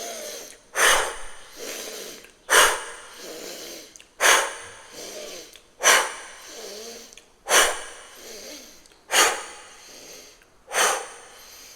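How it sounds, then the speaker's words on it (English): Deep rhythmic breaths from a breathwork exercise, about seven forceful, loud inhale-exhale cycles spaced roughly every second and a half, each a sharp rush of air that fades, close to the listener with no talking. "So what you do is you're going to do a breath work."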